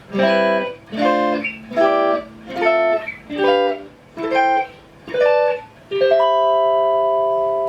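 Electric guitar drop 2 chord voicings are played one after another in a steady sequence of eight, each ringing briefly, with the last chord left to sustain.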